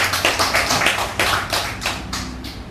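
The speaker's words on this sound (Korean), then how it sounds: "우리 현정자매 위해서 감사 박수 한번 해주십니다." A church congregation claps in thanks, a steady burst of hand-clapping with rhythmic surges, moderately close and filling the room with no voices over it.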